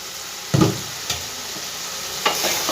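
Spice paste frying in a pan for an onion curry, a soft background sizzle broken by a few short stirring scrapes and clatters, close by with no voices.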